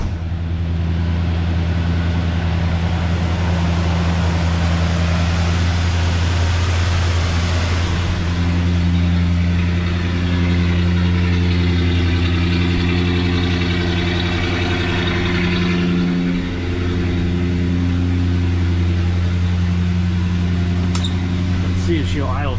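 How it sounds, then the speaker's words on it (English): A cold 1969 Ford F-250 Highboy 4x4 engine runs at high idle with the choke pulled, holding a steady, close mechanical drone with a slight shift in pitch partway through. "let's get out and listen to the engine run while it's cold."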